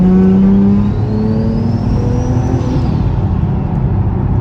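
Turbocharged, rear-mount Nissan 370Z accelerating hard at wide open throttle in third gear, engine note climbing steadily with a rising turbo whine, loud and close from inside the car.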